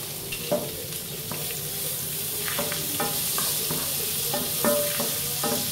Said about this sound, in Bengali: ভালো করে ওটা একটু নেড়ে নেব। এটা একটু ফ্রাই হবে, খুব বেশি ফ্রাই করব না